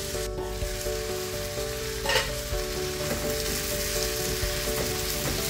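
Chopped onion and tomato sautéing in a pan for chutney, a steady close sizzle and crackle of frying that runs throughout, with a couple of soft stirring scrapes and no talk.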